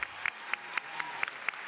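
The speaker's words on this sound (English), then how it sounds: "give a huge Comic-Con round of applause for this group of people" Applause from a Comic-Con audience for a TV cast panel comes as a soft, distant patter, with sharper claps standing out at a fairly regular rhythm.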